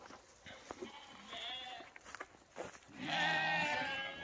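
Sheep bleat loudly and repeatedly near a farm gate, the calls rising and swelling into a long sustained bleat toward the end, with faint bleats from the flock earlier on.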